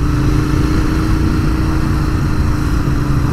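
Loud, constant engine rumble from a 2019 Royal Enfield Interceptor 650 under way, a close, even thumping beat with steady road and wind noise throughout and nobody speaking.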